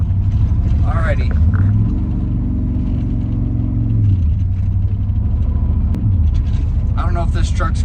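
An old Ram truck drives along with a low engine rumble and shifting tones, a rattling dash adding faint clatter throughout, heard close from inside the cab.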